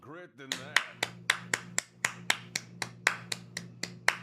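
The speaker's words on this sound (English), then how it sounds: "Round of applause." Hands clapping in a brisk, even round of about fourteen sharp claps, close and fairly loud, after a brief voiced sound at the start.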